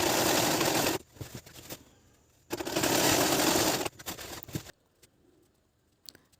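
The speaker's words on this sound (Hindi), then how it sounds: "इसमें अब मैं इसे राउंड घुमा दूंगी, राउंड से सिलाई कर दूंगी" A sewing machine stitches round the edge of a homemade blanket storage bag, running in two loud, steady bursts of about a second each with short pauses between, then falling quiet apart from a few faint clicks.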